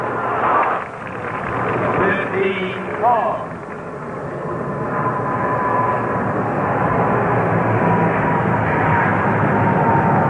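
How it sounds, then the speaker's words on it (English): A propeller or jet aircraft passes overhead near a 1972 US Open tennis final, a steady broad engine roar holding loud through the whole stretch while a commentator talks briefly near the start. "Getting a lot of aeronautical noise"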